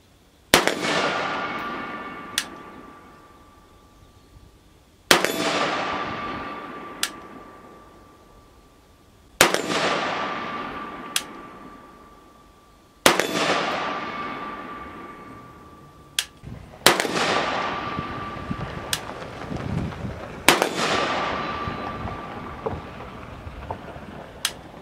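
A Pioneer Arms Polish AK-47 with a forged under-folding stock, chambered in 5.56, fires five single shots outdoors at slow, even intervals. Each loud crack is followed by a long echo that fades away.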